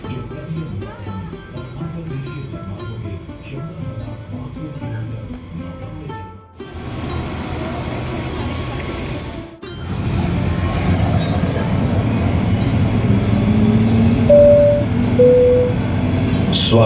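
A helicopter ride simulation at the Pradhanmantri Sangrahalay museum in Delhi rumbles on with a steady, loud engine-like drone. It cuts out briefly twice, then swells to a heavier roar, with faint tonal chimes near the end.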